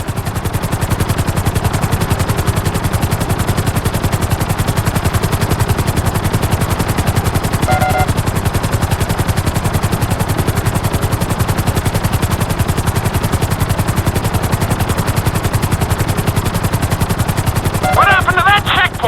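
A helicopter in GTA 5 flies on with a steady, loud, fast-chopping rotor drone throughout, with brief game beeps at moments and no speech.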